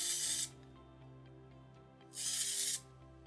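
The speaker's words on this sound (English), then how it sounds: "let me just get a little bit of fixative and just spray it on there." Fixative sprays onto a charcoal drawing in two short aerosol hisses, close and crisp, with a quiet pause between them.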